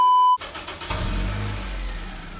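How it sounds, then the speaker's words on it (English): A Honda Accord starts up and idles low before being driven into a garage, the engine note rising to a mid-pitched rumble after a brief tonal chime, close by and with no talk. "I'm gonna move the car into the garage"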